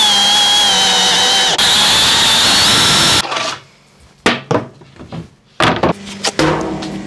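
A power drill whines steadily while boring centre holes in a Land Rover Series seat frame, then stops, followed by a few short bursts of drilling and clunks as the work finishes by hand.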